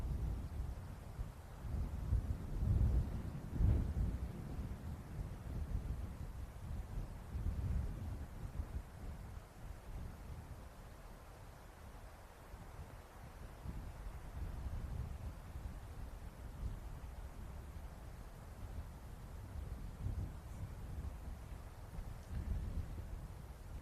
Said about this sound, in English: Wind suddenly really picks up now too.